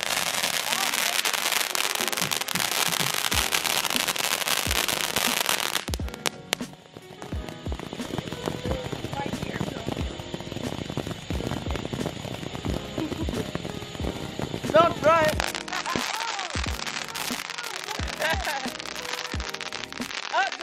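Fireworks and firecrackers crackle densely outdoors on a July 4th weekend night, a constant barrage of pops and bursts, some near and loud, others distant, with voices calling out now and then over the noise.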